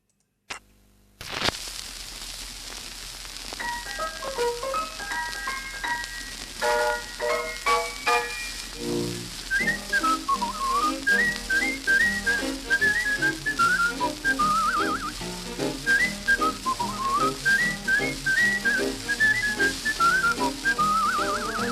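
A vintage 78 rpm shellac record plays a whistled melody over a light crackle and hiss, starting after a brief needle drop.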